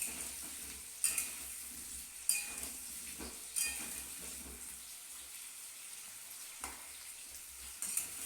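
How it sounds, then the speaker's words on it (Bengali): Potatoes fry gently in oil with salt and turmeric for a cauliflower curry, giving a soft, steady sizzle punctuated by several light clinks of a utensil against the pan, faint and close. "এটাকে সামান্য নুন দিয়ে হলুদ দিয়ে ভেজে নিতে হবে"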